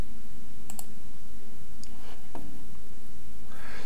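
A few quiet computer mouse clicks while registering an app, sparse single clicks over a steady low background hum.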